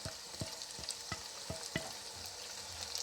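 White sauce pasta is stirred and mixed in a pan, giving soft, close scraping strokes at an irregular rhythm over a gentle, continuous sizzle, with no voices.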